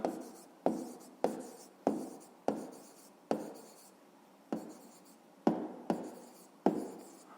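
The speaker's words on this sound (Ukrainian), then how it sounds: "Записуємо відповідь." A pen writes out an answer by hand, in about ten distinct bursts of strokes, each starting sharply and trailing off, close and fairly quiet with no talk.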